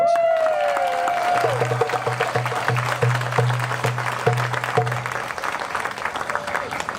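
Audience applause after a puppetry performance at an Earth Day event, steady broadband clapping lasting several seconds with a low steady hum beneath and a brief tonal sound at the start.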